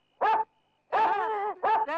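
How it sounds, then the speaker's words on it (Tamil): A dog barks three times in quick succession, loud and close, each bark a short yelping, slightly whiny call with nothing else heard around it. "நம்ம நாய்"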